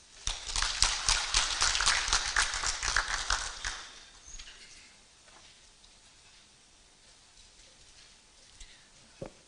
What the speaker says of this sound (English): I'm persuaded Waziri deserves a bigger round of applause